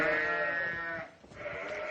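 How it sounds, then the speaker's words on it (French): A sheep gives a long, wavering bleat nearby, then a second bleat follows after a brief pause. "On va voir ces moutons."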